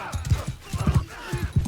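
Horse hoofbeats in the video game Mount and Blade 2: Bannerlord, a quick uneven run of clip-clop thuds at moderate volume, close by, with no talk over them.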